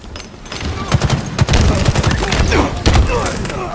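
A frag grenade thrown in the multiplayer shooter Halo Infinite, amid a busy firefight of rapid gunshots, thuds and a boom, loud and dense, with a voice briefly speaking near the start.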